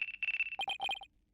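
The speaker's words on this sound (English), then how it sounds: "Looks like I have a phone call." A phone ringtone from the Ace Attorney: Dual Destinies video game plays loud and close: a steady electronic tone followed by a quick run of bright chiming beeps that stops abruptly.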